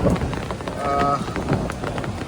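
Steady rain pours over an emptied village cattle and buffalo market, a dense wash of drops on surfaces with brief tonal hums and faint knocks mixed in, continuous and close.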